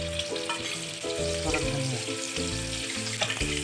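Eggs that have been slit, salted and sprinkled with coriander fry in a pan with a steady, close, crackling sizzle, and a spoon stirs and clinks through it.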